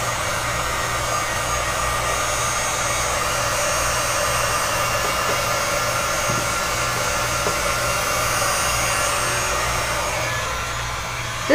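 A hair dryer blows steadily at close range, drying a wax and alcohol ink pour painting with a constant, even whoosh that runs unbroken and alone to the end.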